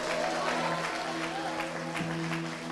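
A church congregation applauding during a worship service, a soft, dense wash of clapping heard from a distance under a steady tonal hum, lasting only a few seconds.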